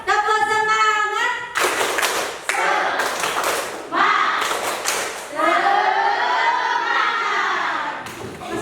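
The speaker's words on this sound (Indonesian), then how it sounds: "Coba tepuk semangat dulu ya." A group performs a rhythmic spirit clap, sharp bursts of clapping alternating with voices chanting together in a patterned cadence.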